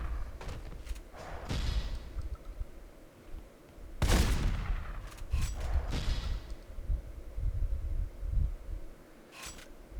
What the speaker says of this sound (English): Okay, that's the level 2 shotgun that you're seeing there.